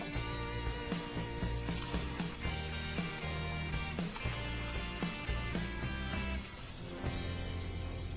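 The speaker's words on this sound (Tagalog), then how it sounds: "kumulo na po yung ating tubig at isasalin po natin ito sa lalagyan" Boiled water is poured from a cooking pot patched with plastic from a Nescafe 3-in-1 sachet into a container. A quiet hissing splash runs with small clinks and knocks before it thins out near the end.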